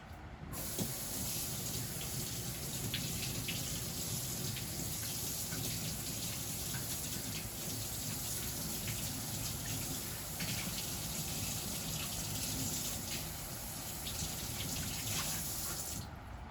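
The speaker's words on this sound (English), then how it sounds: "So I'm going to rinse it out real quick because it looks pretty gunky." A gunky plant pot crusted with fertilizer and salt buildup is rinsed under a running tap, giving a steady, close, continuous splashing hiss of water with no pauses, heard alone without talk.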